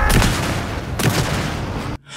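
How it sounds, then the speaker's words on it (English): Shotgun fire in Alan Wake 2 during a boss fight, two heavy booming blasts about a second apart, each with a rolling tail, ending in a sudden cutoff. "quickly switch over to the shotgun and land both rounds"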